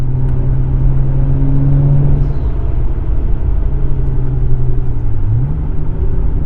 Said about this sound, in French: j'adore le ronron de ce Yamaha JZ là